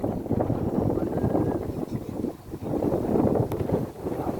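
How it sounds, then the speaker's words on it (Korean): Wind blows outdoors in steady, buffeting gusts that rumble against the microphone, loud and close, swelling and easing over a few seconds with no clear voices. "아따 바람 분다 오늘"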